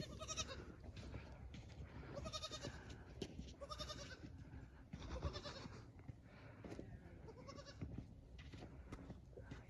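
Baby goats bleat repeatedly on a goat farm, several overlapping high cries in close succession against a steady farmyard background.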